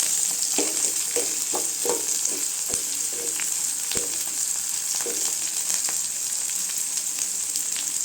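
Curry leaves and dried red chillies sizzle and crackle in hot oil with onions for a coriander chutney, a steady frying hiss with scattered pops and stirring clicks throughout.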